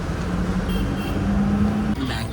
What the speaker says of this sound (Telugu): బ్యాక్ చేస్తున్నాం మన బస్సుని.